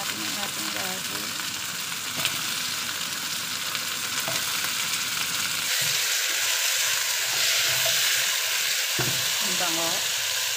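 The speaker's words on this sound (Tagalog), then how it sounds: "Ilagay natin ang ating garlic." Garlic frying in hot oil for watercress soup, with a steady loud sizzle that goes on throughout and occasional stirring scrapes in the pan, close up.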